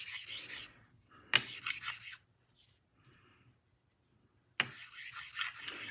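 A Ralf Aust straight razor is honed on a Japanese whetstone with slurry, giving short, soft gritty rubbing strokes with sharp clicks at the start of each pass and a quiet pause between two bursts of strokes.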